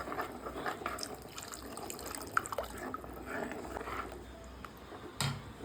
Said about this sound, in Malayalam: ഇനി വെള്ളം ആവശ്യത്തിനുള്ള വെള്ളം ഒഴിച്ചു കൊടുക്കാം